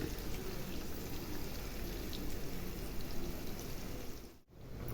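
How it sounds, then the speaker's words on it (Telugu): Pot of gongura and bitter gourd curry bubbling at a steady, continuous boil close by, a dense, even wash of simmering water with no talking, briefly dipping near the end. "చూడండి బాగా ఉడుకుతోంది"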